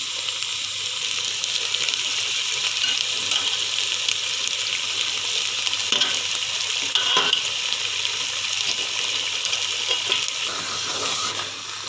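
Cooked mutton with its ghee and masala tipped into spinach frying in a pan, a loud steady sizzle with a few scraping stirs near the end, no talking.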